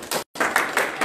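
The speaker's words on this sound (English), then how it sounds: "Give a brother a round of applause." Congregation applause during a sermon, a brief burst of many people clapping, broken by a short silent gap and then resuming at steady strength.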